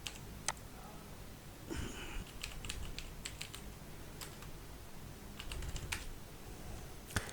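Someone types text on a computer keyboard in a quiet room, irregular bursts of soft close key clicks with a few sharper taps and short pauses between runs, no talking.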